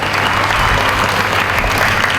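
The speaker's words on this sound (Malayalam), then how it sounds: "കൈയടി കൊടുക്കാം, കൈയടി കൊടുക്കാം." Loud, dense applause from a quiz show audience at a camp in Kannur, continuous close clapping filling the whole moment without letup.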